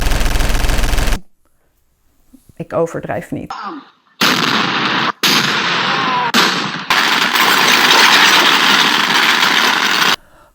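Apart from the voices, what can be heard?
loud New Year's Eve fireworks going off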